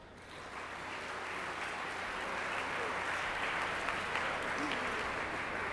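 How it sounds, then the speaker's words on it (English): Audience applause at the Chicago/Midwest Emmy Awards swells in and holds steady as a dense, even wash of clapping, fairly quiet and distant, with faint voices mixed in. "Big round of applause, please."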